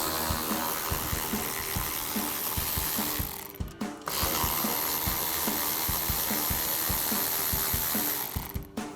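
A hand ratchet with an extension and 7mm socket works bolts loose from a 2024-2025 Mustang rear bumper area, giving steady rapid clicking in repeated runs, close and clear, with two brief pauses between sets of strokes.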